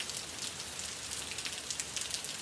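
Steady rain falls outdoors on a wet day, a continuous close hiss of drops spattering on surfaces with no voices over it.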